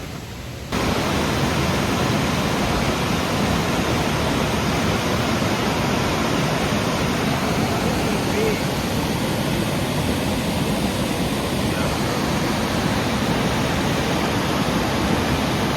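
Rough river water churns below a Tennessee dam as generators open, a loud, steady broadband roar that fills the whole stretch without pause, heard close and alone.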